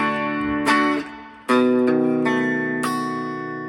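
Guitar chords ring out close and clear, one voiced with an added high pinky note on top. A few strums and re-strikes let the notes sustain and fade, with no talking over them.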